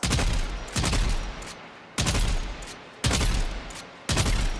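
Sniper rifle firing in bursts in Warframe, four loud, sharp volleys at roughly one-second intervals, each rapid cluster of shots trailing off into a decaying echo, with no voices.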